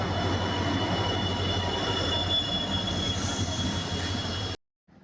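A train at a station rolls past with loud, continuous rumble and squealing wheels close by, the noise cutting off abruptly near the end.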